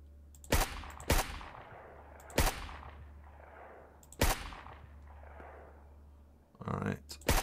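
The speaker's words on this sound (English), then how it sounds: "I could try and shoot some bullets into this thing as well." Sharp single gunshots crack in SurrounDead, about five loud reports spaced a second or more apart, each with a short echoing tail, then a rougher burst near the end over a low steady hum.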